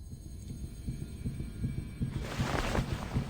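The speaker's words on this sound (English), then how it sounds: "Her heartbeat drums in her ears." Heartbeat drumming effect in the Reverse 1999 game, a steady low throbbing pulse repeating evenly at moderate volume, with a brighter wash of sound swelling in toward the end.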